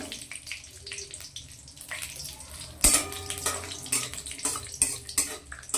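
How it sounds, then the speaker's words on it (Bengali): Bay leaves and whole garam masala dropped into hot oil, giving a sudden sizzle and crackle followed by ongoing spitting and light clinking of utensils against the pan. "তো আমি প্রথমেই দিয়ে দিচ্ছি ওই তেলের মধ্যে দুটো তেজপাতা, গোটা গরম মশলা"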